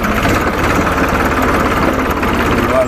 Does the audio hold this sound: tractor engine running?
yes